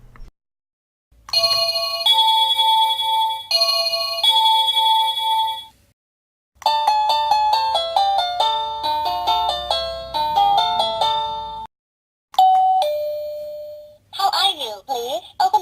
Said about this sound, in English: test the doorbell so I can show the audience the different ringtones